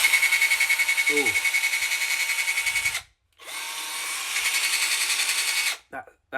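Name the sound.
cheap Amazon cordless drill running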